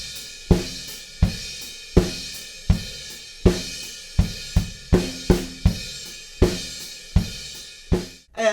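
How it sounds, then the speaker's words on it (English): A drum kit plays a song, with eighth-note hi-hats and a crash cymbal struck on every quarter note over kick and snare. The loud, driving beat rings out alone and ends with a final hit. "I can hear the quarter note crashes come back in"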